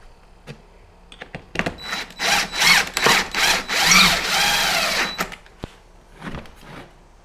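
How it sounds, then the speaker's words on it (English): A power drill drives a screw to mount a wooden French cleat, with several bursts of loud whirring near at hand, rising and stopping in quick succession, followed by a few light clicks and knocks. "And then you can either sink the first screw and then move the cleat up or down as you need."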